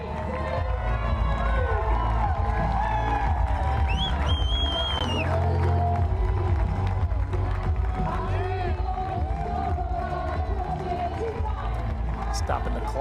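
A crowd cheers at the finish line of the Ironman 70.3 World Championship women's race in Lahti, Finland, a dense continuous roar under a commentator's voice, with a whistle-like tone rising briefly partway through.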